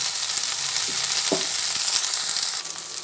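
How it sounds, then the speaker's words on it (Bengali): Okra (bhindi) frying in a pan, a continuous bright sizzle with a few soft clicks of stirring, close and steady with no talking. "ভেন্ডি ভাজা হচ্ছে"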